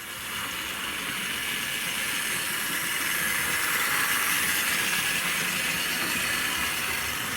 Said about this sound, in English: we're going to see this going around light loco now. Very quiet runner